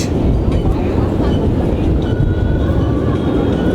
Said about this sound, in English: A train is passing through this bridge.